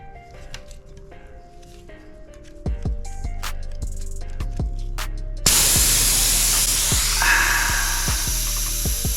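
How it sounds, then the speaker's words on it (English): Air hissing out of a Brompton T-Line folding bike tire as it is deflated, a sudden loud, steady hiss that starts partway through after some clicks and knocks, then keeps rushing to the end. "I'm gonna take the tire pressure out just to slip it past the brake pads right there."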